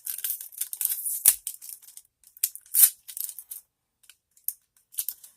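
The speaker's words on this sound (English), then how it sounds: "I had to take the cellophane off of it." Cellophane wrapping is peeled and crinkled off a lip gloss close up, giving sharp irregular crackles and ticks with short pauses between bursts and no talking.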